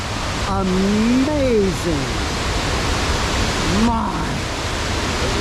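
A waterfall at Cummins Falls or Burgess Falls in Tennessee roars as a constant broadband rush, with a person talking briefly over it.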